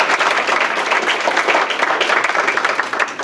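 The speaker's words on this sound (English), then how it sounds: "Let's give a round of applause to Katie Roche." A songwriting workshop audience applauding, loud and close, with steady clapping sustained throughout and sharp individual claps audible in the mix.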